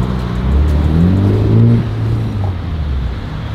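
A Nissan 350Z engine runs with a loud, close rumble whose pitch rises and swells before settling back to a steady idle-like drone, with no speech over it.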